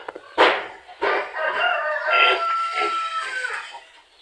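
Native chickens cluck and call during feeding time, with short loud squawks at the start followed by a busy stretch of overlapping clucks and chatter at moderate distance.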